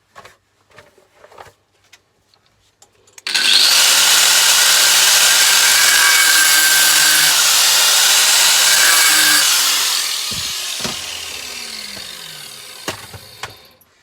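A power tool cuts a slot into an aluminium door, starting abruptly after a few quiet seconds with faint knocks, then a loud, continuous, harsh grinding whine that holds steady for about seven seconds before easing slightly and tapering off.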